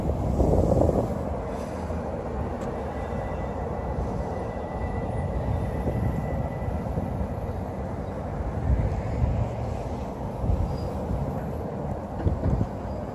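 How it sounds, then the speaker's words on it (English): A light rail train rumbles steadily past at close range at Union Station, a low continuous roar with faint squeals and clanks from the wheels. "It's also, of course, a major hub for the Max line, the"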